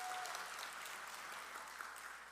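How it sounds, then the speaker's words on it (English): Sustained audience applause at a morning event in Minnesota, a dense, steady patter of clapping hands lasting the whole stretch with no voices over it. "Thank you for starting that round of applause, Mayor Carter."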